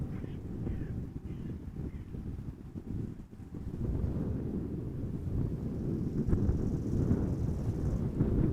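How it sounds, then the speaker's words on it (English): Wind blowing at Amsterdam Schiphol Airport, a steady low rumble buffeting the microphone, strengthening slightly partway through, with a faint crow cawing in the distance. "In fact, the wind has gone down a little bit."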